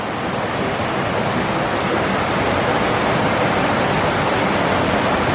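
White water rushes through mountain creeks and channels among evergreens and mountain laurel, a steady, loud, broadband roar with no voices.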